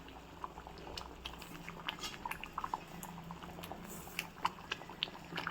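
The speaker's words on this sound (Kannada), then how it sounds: "ಚೆನ್ನಾಗಿ ಕುದೀತಾ ಇದೆ ಸಾಂಬಾರೀಗ" Andhra-style sambar boils in a pot with soft, continuous bubbling and popping, faint and close, with no voices over it.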